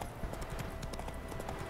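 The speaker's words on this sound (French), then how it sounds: "Là, les chevaux dans The Witcher, j'avoue, c'est pas fou." Horse galloping in the video game The Witcher 3, rapid rhythmic clip-clop hoofbeats, fairly quiet and continuous throughout.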